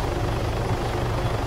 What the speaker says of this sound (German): Können die ganzen Heli sich jetzt endlich mal wirklich verziehen?